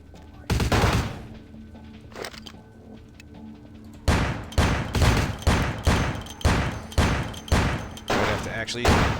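Video game gunfire from Vampire: The Masquerade – Bloodlines: a brief burst near the start, a lone shot around two seconds, then a steady run of loud single shots at an even pace, with a faint voice talking underneath.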